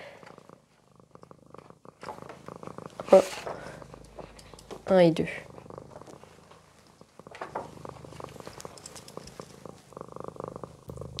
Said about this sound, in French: vous devez beaucoup entendre mon chat qui ronronne